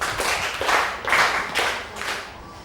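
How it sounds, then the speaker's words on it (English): Students in a Grade 8 mathematics class clap for a classmate, several loud group claps in a steady rhythm, close and fairly clear with little else around them. "Give Dinah 5 big claps"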